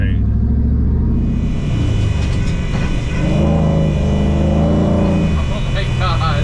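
An off-road vehicle's engine revs and rumbles loudly and continuously while mud bogging at the dunes, with a steady drone and rising pitch shifts, and voices talking over it.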